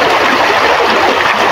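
River water rushing and splashing close by during laundry washing on the riverbank, a loud, steady broadband wash that lasts only a brief moment, with no voices.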